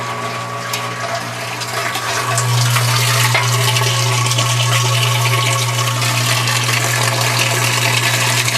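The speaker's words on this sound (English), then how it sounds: "Left pump is off, right pump is on." A water pump runs steadily with a low hum while water pours quickly into a tank, a continuous loud rushing flow that holds even throughout, with no voices.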